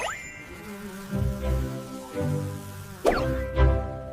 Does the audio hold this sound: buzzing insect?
yes